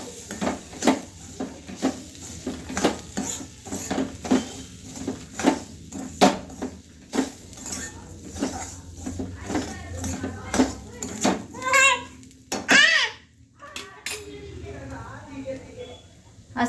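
Coarse semolina being mixed and roasted in a pan, with a steady run of rhythmic scraping and stirring strokes against the metal and faint voices in the background.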